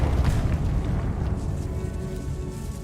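A Confringo blasting spell erupts in Hogwarts Legacy with a loud, rumbling explosive boom that stays dense and sustained throughout, heavy low-end roar with crackling debris, no voices.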